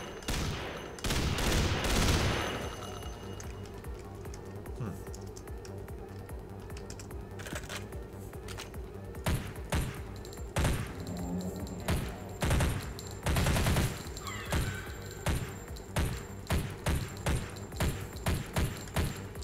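Rapid gunfire from an M4A rifle in a video game under development, with loud bursts early on, then repeated short clusters of shots, mixed with keyboard clicks and thumps.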